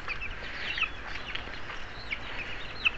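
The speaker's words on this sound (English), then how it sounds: "Cheep cheep! Here they come!" Young chicks cheeping softly, with scattered short high peeps over a quiet background, fairly faint and close.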